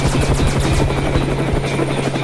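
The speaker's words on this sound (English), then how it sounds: "I don't know if I can get us away from that helicopter." A helicopter flies overhead as an audio drama effect, its loud, steady rotor chopping thumping rapidly and continuously throughout with a constant engine drone.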